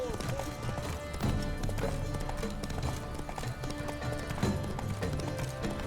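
Horse hooves clip-clopping at a gallop in The Witcher 3: Wild Hunt, a steady drumming rhythm under busy game music and effects, with a voice talking over it.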